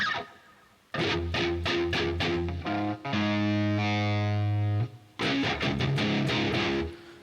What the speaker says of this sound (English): So right now, I'm using that drop pedal, and it's a one half step down,